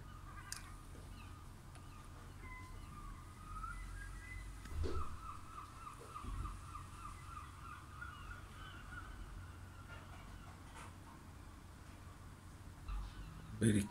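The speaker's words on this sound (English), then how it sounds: "Birds are singing a song." Scattered bird calls, including a few harsh caws, ring out over a quiet, low outdoor rumble on a cold winter evening in South Shields; the calls are distant and irregular.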